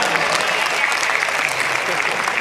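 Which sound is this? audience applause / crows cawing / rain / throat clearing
audience applause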